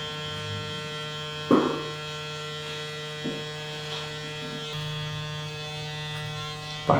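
Electric hair clippers with a guard buzzing steadily through a low taper fade on a textured fringe haircut, a close constant hum broken by a few sharp snips and clicks as the blade meets hair.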